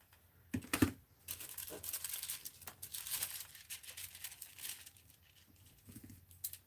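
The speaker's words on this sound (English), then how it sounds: "Let's get these other scissors out." Scissors cutting through paper in a crafting and art-journal setting, a quiet series of crisp snipping and rustling bursts, close and irregular, with no talking.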